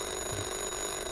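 A telephone rings in the Police Chief Simulator video game, a faint, steady electronic ringing tone with no one speaking.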